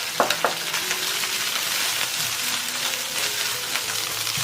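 Minced garlic and dried preserved mustard greens stir-fry in hot oil, a steady close sizzle with a few quick utensil taps at the start and soft scraping as the wok is tossed.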